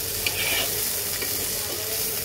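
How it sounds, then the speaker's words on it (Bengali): Chopped onions and green chillies fry in an oily pan for a Bengali fish curry, making a steady close hiss of sizzling with faint stirring scrapes throughout. "পেঁয়াজটাকে একটু হালকা ভেজে নেব।"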